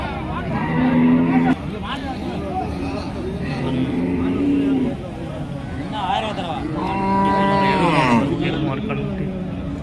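Cattle low at the Manappari cow market, several drawn-out moos rising and falling in the foreground, while crowd chatter and nearby voices continue underneath.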